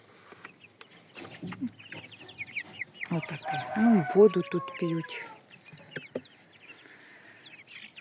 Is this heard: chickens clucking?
yes